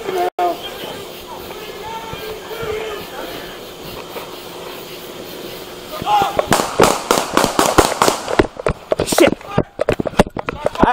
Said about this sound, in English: Shots fired. Shots fired. Shots fired.